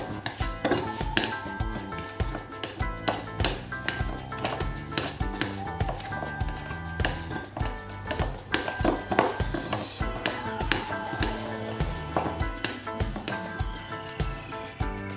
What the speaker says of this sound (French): je vais rajouter à l'intérieur le cacao poudre et je mélange à nouveau